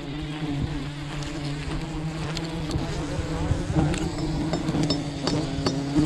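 Bees buzz steadily around a hive in a very tall old tree, a dense, continuous drone that stays close and loud, with a few faint clinks mixed in.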